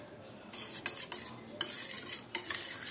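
Spoon stirring powdered milk into a small amount of milk for vermicelli payesh, giving close, irregular scraping clinks against the pot with short bursts of activity and no talking.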